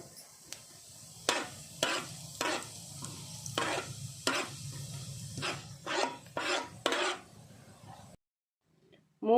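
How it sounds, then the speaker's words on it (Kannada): Spoon scraping and stirring in a pan of hot ghee where cumin and fennel seeds crackle, in a steady run of sharp rasping strokes over a low sizzle, then a brief near-silence at the end. "ತುಪ್ಪ ಕಾದಿದೆ. ಇದಕ್ಕೆ 1 ಚಮಚದಷ್ಟು ಜೀರಿಗೆ, 1 ಚಮಚದಷ್ಟು ಸೋಂಪು ತಗೊಂಡಿದ್ದೇನೆ"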